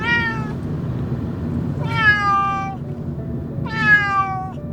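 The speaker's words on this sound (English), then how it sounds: "non-stop meowing" A Ragdoll cat meowing inside a car on a long-distance trip: three loud, drawn-out plaintive meows, evenly spaced about two seconds apart, over a steady low road rumble.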